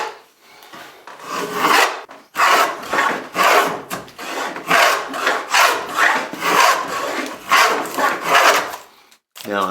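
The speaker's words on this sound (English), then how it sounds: "Now I'm planing down approximately to my cut line." Hand plane shaving wood down toward a cut line while making a compound molding, a steady series of rasping strokes close up, each stroke swelling and fading in an even back-and-forth rhythm.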